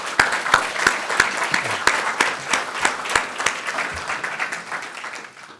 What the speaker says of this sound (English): So how about a round of applause for these guys?